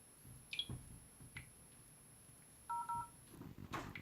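Telephone dialing tones from a phone call being placed, a short burst of paired beeps standing alone after a few soft clicks and taps in a quiet room.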